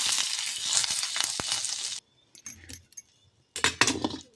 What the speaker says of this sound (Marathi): आता आपल्याला याच कढईमध्ये मिरच्या आणि लसूण भाजून घ्यायचं आहे भाजीसाठी